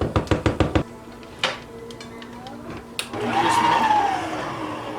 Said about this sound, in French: je vais laisser la machine fouetter pour nous